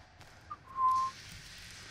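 A short, faint whistle sounds in the horror video game The Texas Chainsaw Massacre: a single brief steady tone over quiet background ambience.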